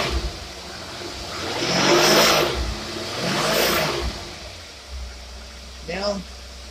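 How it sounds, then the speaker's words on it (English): An engine fitted with a Stromberg single-barrel carburetor revved twice in quick swells, close and loud, then a brief smaller blip as it settles back to idle, with no talk over it. "We rev it up a couple times."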